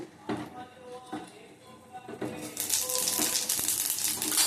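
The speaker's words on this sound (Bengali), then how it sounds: "দেবো 5 ফোড়ন" Panch phoron spice seeds hit hot oil in a pan with a dry red chilli, crackling in a few sharp bursts before a steady, louder sizzle takes over.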